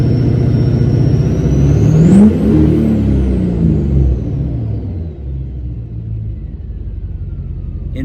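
A Duramax diesel fitted with a 9-blade turbo, loud deep rumble with a rising turbo whistle that peaks and spools down, then settles into a steady close idle.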